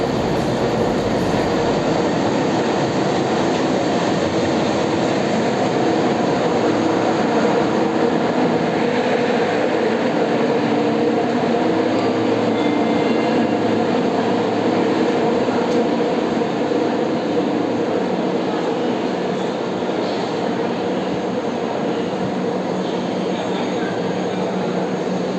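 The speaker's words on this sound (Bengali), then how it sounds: "আমাদের ট্রেন প্ল্যাটফর্মে ঢুকছে।" A double-decker passenger train pulls into a station platform, a loud, steady rumble of rolling coaches with faint wheel clatter and squeal, sustained throughout without pause.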